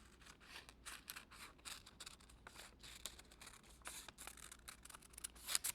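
Small scissors snip repeatedly through a paper visor pattern for a doll, giving quick, crisp, closely spaced cuts that sound faint and close, with no talk over them.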